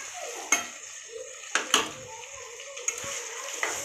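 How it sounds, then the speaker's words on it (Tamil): Three large tomatoes dropped into a cooking pot in a home kitchen: a few sharp metallic clinks and scrapes of utensil against pot, spaced apart over a quiet, faintly sizzling background. "இப்போ தக்காளி போடுறோம்."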